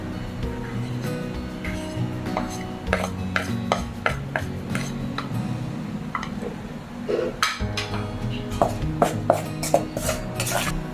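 A spoon stirs garlic powder into flour and other ingredients in a bowl for crispy chicken, making repeated scraping rubs and sharp clinks against the bowl in an irregular rhythm, louder toward the end.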